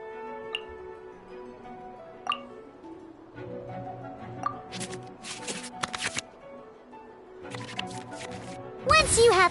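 Cards shuffled back into the draw pile during a video game card match, with quick soft riffling and ticking card clicks that grow busier toward the end, heard under an ongoing voice.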